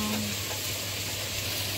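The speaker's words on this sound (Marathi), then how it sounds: "आता हितून प्रॉन्स पकोडा जे आसा ते आमी घालपाचे आणि तेका मातशे फ्राय करपाचे" Prawn pakoda frying in hot oil, a steady, close sizzle that holds evenly for a moment.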